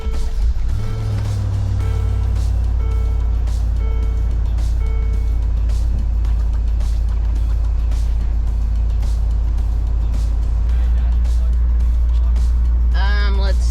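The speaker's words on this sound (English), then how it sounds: "We are turning on the car now." A 2004 Land Rover Discovery 2 engine starts up after an oil change and settles into a steady, deep idle, with a regular chime beeping at first and a person talking nearby.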